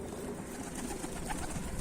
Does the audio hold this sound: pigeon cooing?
yes